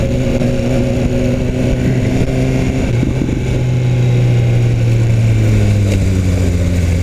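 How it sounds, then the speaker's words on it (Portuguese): BMW S1000 R motorcycle riding along with a loud, continuous exhaust drone, steady harmonic engine tone that shifts pitch slightly as revs change, close and dominant throughout with no talk. "Olha esse escapamento, velho."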